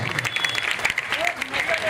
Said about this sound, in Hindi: तो जोरदार तालियों से सराहना कीजिए